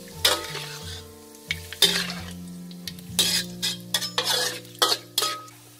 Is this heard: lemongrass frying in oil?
yes